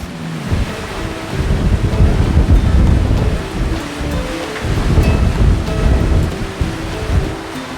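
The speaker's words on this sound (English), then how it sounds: "Getting a little gusty on us. We got a little squall going overhead." A passing squall at sea brings loud, gusty wind buffeting the microphone, with rushing water and rain noise filling the background continuously.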